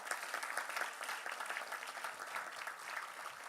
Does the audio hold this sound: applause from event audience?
yes